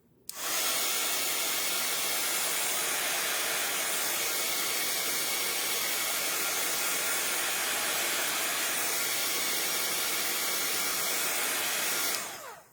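A hair dryer runs steadily for about twelve seconds to dry paint or ink between coats, a loud close-up airy whoosh that starts and stops abruptly, with no talking.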